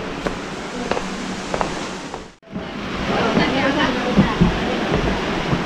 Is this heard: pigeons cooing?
no